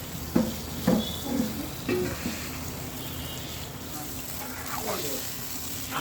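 Fish pieces, fish heads and potatoes sizzle in a pan and are stirred for Bogura-style aloo ghati, giving a steady soft frying hiss with scraping stirs and faint background voices.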